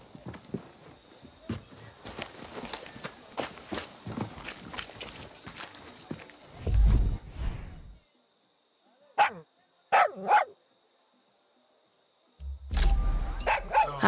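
A dog barks in the Far Cry 6 video game, a few sharp separate barks near the middle among game footsteps and ambient noise, with heavy thumps and a character's voice at other moments.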